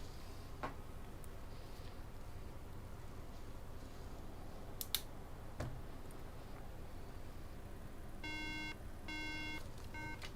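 A MacBook Air 2012 logic board gives three short electronic beeps near the end, faint against a quiet background hiss with a few small clicks earlier.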